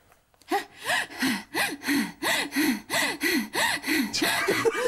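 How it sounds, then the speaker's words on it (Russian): A woman skipping rope at home breathes heavily, with about nine loud, close, rhythmic gasping breaths in a steady beat and no talk. "Да, прыгает на скакалке."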